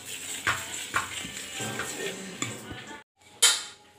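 Idli batter is stirred in a vessel, with a spoon scraping and knocking against the metal in a few sharp clinks and swishes, close and fairly quiet, and a brief pause before a final bright clink.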